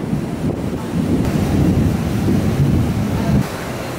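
A low, steady rumble of thunder rolls through a rainstorm in a New York City street, mixed with rushing rain and wind noise, fairly loud and unbroken for several seconds.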